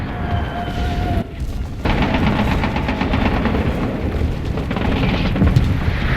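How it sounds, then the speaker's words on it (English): Artillery strikes in the World War II shooter game Enlisted, a loud, dense roar of explosions and rumbling booms that barely lets up, with one brief dip before the barrage surges back. "Calling in artillery!"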